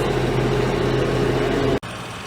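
A tractor engine with 584 hours on it runs steadily during a field test, a loud continuous low drone with a constant hum that cuts out abruptly near the end, leaving a quieter rumble.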